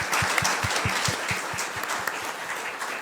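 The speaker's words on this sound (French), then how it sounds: "On va vous applaudir, les parents." Audience clapping in a church after the parents of children are called to stand, a steady rhythmic applause spread through the congregation that stays fairly even for a few seconds.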